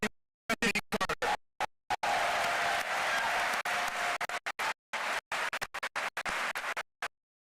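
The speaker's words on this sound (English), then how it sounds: "Let's give one more round of applause" A crowd at the Atlanta State of the City address applauds Jimmy Carter, sustained clapping heard in broken stretches that cut in and out with abrupt gaps.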